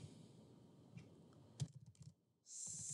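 Code is typed on a computer keyboard in a quick run of close, crisp key clicks with short pauses, then the clicking gives way to a steady hiss.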